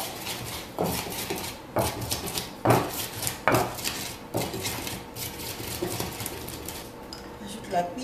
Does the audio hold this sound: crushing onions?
yes